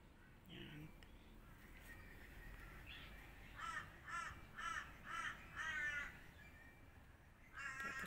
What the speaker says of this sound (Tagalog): Tapos sumasabay pa yung mga huni ng malalaking ibon.